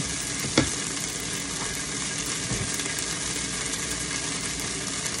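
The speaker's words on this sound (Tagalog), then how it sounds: "Ito naman po ang ating bawang na ginisa." Chopped garlic sautés in a hot pan for Filipino garlic fried rice served with beef tapa, giving a steady, close, loud sizzle with one brief clatter near the start.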